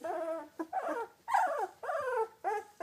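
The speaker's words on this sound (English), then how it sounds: "Those are some cute puppies." Two-week-old British Labrador puppies whimper and whine in a quick series of high, wavering cries, close and clear, with brief gaps between calls.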